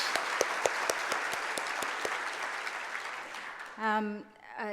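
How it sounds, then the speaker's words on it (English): An audience at a conference plenary session claps for the musicians in a sustained round of applause with distinct sharp claps, fading before a voice begins speaking near the end. "Let's give them applause as well."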